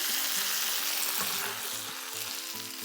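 Tadka tempering for moong dal sizzles and fries steadily in hot oil, close and continuous, with faint stirring taps and no talking.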